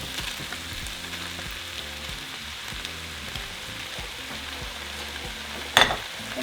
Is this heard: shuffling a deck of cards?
no